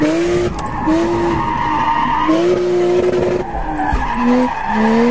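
Mazda RX8 rotary engine revving hard while drifting, with rising and falling engine tones and tire skid noise, loud and close throughout with no talking.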